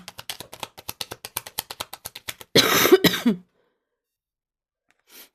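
A burst of coughing, loud and close, follows a run of rapid keyboard clicks, then silence and one faint tap.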